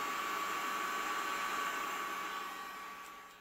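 A turbo barrel cooler blows air onto a rifle barrel, a steady broadband hiss of rushing air, loud and continuous, easing off slightly toward the end.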